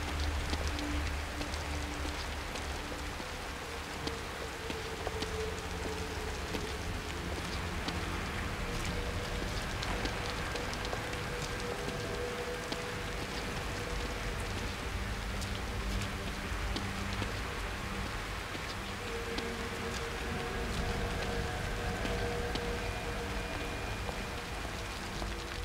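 Steady rain falls throughout a scene in the horror video game The Evil Within, a continuous close hiss of drops on surfaces with faint low rumble beneath and no talk.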